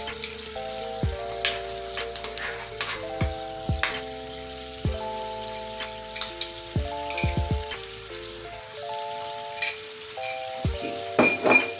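Boiled crushed pumpkin added to a frying pan with fish for a Jamaican-style dish, a soft steady sizzle with intermittent utensil clinks and scraping, close and moderately loud, no talk.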